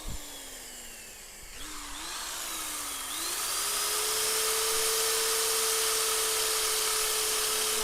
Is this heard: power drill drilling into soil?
yes